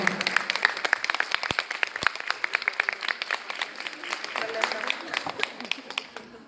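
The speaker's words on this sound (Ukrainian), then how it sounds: "Прошу вітати оплесками." A crowd applauds steadily at a folk song competition, with dense, close clapping that keeps going throughout, a couple of sharp louder claps standing out early on.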